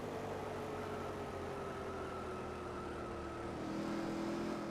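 A race car engine in NASCAR Racing 4 drones at steady high revs and then shifts pitch as the car runs alone on the New Hampshire track, loud and continuous with no speech.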